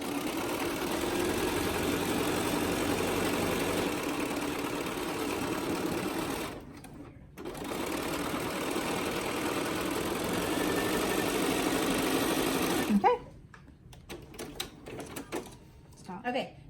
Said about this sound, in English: now I'm going to sew along the other side